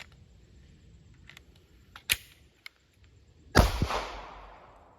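A handgun fires once during an everyday-carry shooting drill, a loud sharp crack with a brief ringing decay, preceded by a few faint clicks and a quieter snap.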